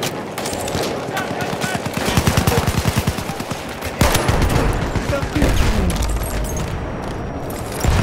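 Battlefield 1 machine gun fire rattles in rapid, continuous loud bursts with booming impacts throughout, dense battlefield noise layered over it.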